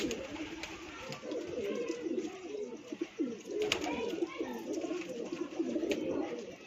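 Pigeons cooing in soft, repeated low throaty calls, fairly close and quiet, continuing throughout with faint background noise.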